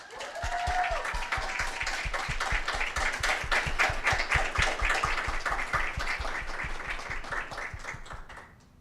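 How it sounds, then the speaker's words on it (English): Audience clapping for newly inducted members at a Lambda Pi Eta honor society induction ceremony, sustained even applause from a crowd for about nine seconds before fading at the end. "Let's give them a round of applause."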